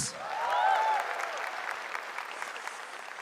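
Crowd applause at a stand-up comedy grand final show, swelling early with a bright tonal sweep over it, then settling into a steady, moderately loud clapping wash.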